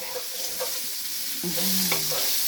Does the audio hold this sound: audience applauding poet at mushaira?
no